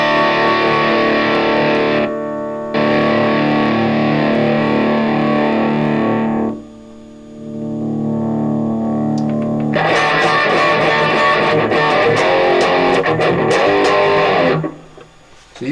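An electric guitar played through a Line 6 Pocket POD modeling effects unit rings out in loud, heavily distorted sustained chords, with a short break in the middle before another fuzzy chord rises and then cuts off. No one speaks.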